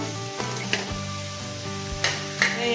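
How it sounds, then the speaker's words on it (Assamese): Chicken meat with potatoes fries in a pan, a steady close sizzle broken by a few sharp stirring scrapes and clacks of a spoon against the metal. "এতিয়া এইখিনি ভালকৈ আৰু অলপ সময় ভাজিব লাগিব"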